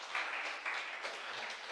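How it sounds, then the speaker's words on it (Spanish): A church congregation claps and applauds together, a dense, even patter that sounds distant and fairly faint throughout a short stretch. "Denle las palmas al Señor"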